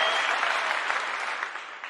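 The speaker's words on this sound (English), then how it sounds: "You guys give Maylee some claps in the chat" Steady, dense applause from many hands fills the whole stretch, loud and continuous without pause or voices.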